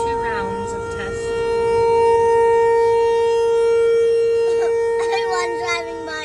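Tornado siren test in a town, a loud sustained wailing civil defense siren tone holding steady and rising slightly, heard close and dominating, with faint voices in the background.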